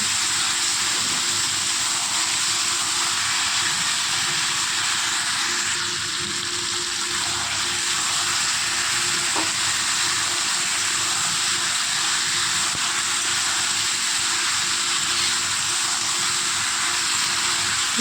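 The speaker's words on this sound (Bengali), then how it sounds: "যতক্ষণ মাংসটা ভালো করে ভাজা না হয় ততক্ষণ আমি ভালো করে মিশিয়ে রেখে এইভাবে ভাজতে থাকবো।" Village-style desi chicken meat frying in a pan, a steady dense sizzle running continuously without pause, close and fairly loud, with no voices.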